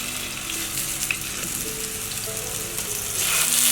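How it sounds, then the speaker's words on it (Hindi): Seekh kebabs cook in a hot pan over a low flame with a steady, moderate sizzle and a few faint clinks, and the hiss rises slightly toward the end. "अब हम कबाब इसमें इस तरह से रख देंगे"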